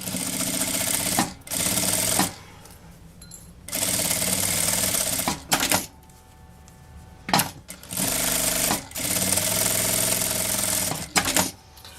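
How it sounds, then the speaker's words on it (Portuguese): A sewing machine sews a fabric strap for a small oral-hygiene pouch, stitching along both edges. Loud, close bursts of stitching are separated by short pauses, repeating several times. "Vou costurar agora a alcinha, pra gente não esquecer de colocar ela"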